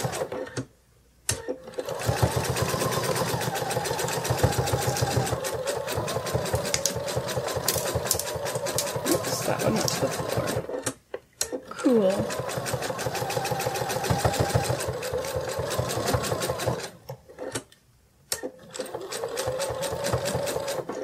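A sewing machine stitches around a sitting kitty plush, its fast mechanical chatter close and steady in several long runs separated by brief pauses.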